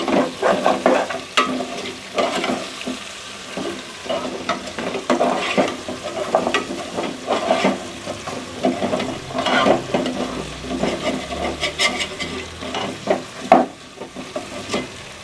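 Beef trotters frying with spices in a pan, a loud continuous sizzle broken by frequent rhythmic scraping and clattering of a spoon stirring throughout, no talk.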